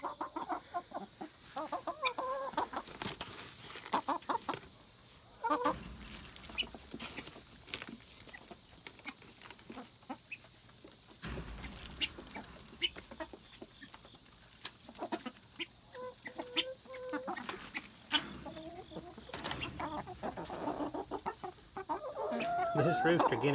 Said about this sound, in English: This rooster guinea always wants to try to fight with these chickens.